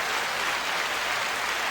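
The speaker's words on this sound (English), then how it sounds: "Clap, man, clap." A small in-studio audience claps continuously, a dense steady patter of applause at moderate loudness with no gaps, and no voices over it.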